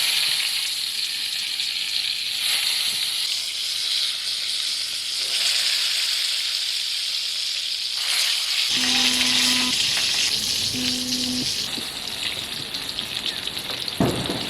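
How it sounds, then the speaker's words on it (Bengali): Eggplant slices dropped into hot white oil for Bengali doi begun, crackling in a loud, steady sizzle that hisses close up and keeps going through the whole clip, with no voices. "তেল গরম হয়ে গেছে এবার বেগুনগুলো দিয়ে দেবেন"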